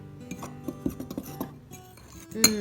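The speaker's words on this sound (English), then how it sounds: "Now we can whisk this together." Flour, salt, baking soda and cinnamon whisked in a bowl, quick irregular clinks and light taps of the whisk against the bowl, fairly faint and without talk.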